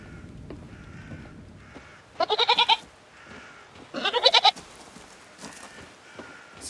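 A goat in the video game Reka gives two loud, quavering bleats a couple of seconds apart, each a rapid stutter of pulses over a quiet background.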